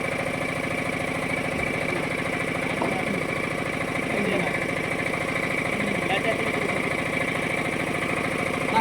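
A vehicle engine idling nearby, a steady low rumbling drone with a faint rhythmic knock that continues unchanged for the whole stretch.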